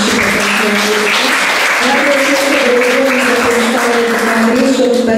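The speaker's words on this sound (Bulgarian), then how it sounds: "аплодисменти за нея като оператор" A festival audience at a cinema contest claps in a loud, sustained round of applause that runs the whole time, with voices and tonal sounds mixed into the dense clapping.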